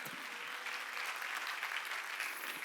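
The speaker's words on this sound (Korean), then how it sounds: "믿으면 박수" A church congregation claps during a Sunday worship service, a short, even burst of many hands heard at moderate distance, steady from start to finish.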